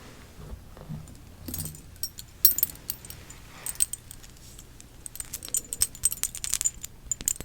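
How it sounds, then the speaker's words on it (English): A set of keys jangled and shaken close up, with bright metallic clinks coming in irregular clusters that grow busier toward the end, with no talk. "The next thing that I wanted to show you are my keys."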